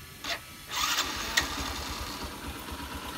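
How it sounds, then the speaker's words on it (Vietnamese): A small Honda motorcycle engine cranks and catches, then settles into a steady low idle; fairly quiet and close. "Để em nổ máy cho anh em nghe thử nha."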